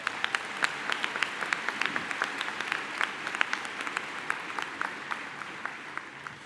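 A large commencement crowd at Denison University's 2024 graduation claps for the faculty in one more round of applause, a dense, even roar of hands with scattered louder claps popping through.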